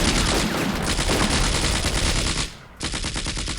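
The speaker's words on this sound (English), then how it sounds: "it looks like at least the machine gun is firing" Sustained machine-gun fire in the WWII strategy game Combat Mission: Afrika Korps, a loud, dense rattle of rapid shots. It drops out briefly, then resumes as an evenly pulsing burst.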